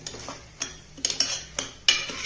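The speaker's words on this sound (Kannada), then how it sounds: "ಈ ಥರ ಚೆನ್ನಾಗಿ ಆವಾಗ ಸೌಟ್ನಲ್ಲಿ ಆಡಿಸ್ತಾ ಇರಬೇಕು" A ladle scrapes and knocks against a pan while stirring sprouted horse gram being roasted in tempering, a series of sharp metallic clinks and scrapes at an irregular rhythm, close and clear.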